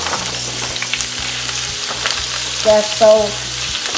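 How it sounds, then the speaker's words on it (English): Chopped vegetables for a beef stir fry hiss in very hot oil, a steady close sizzle over a low electrical hum, with a brief spoken remark partway through. "our oil is really hot now. And then we'll just put all these veggies, everything, just put it in there."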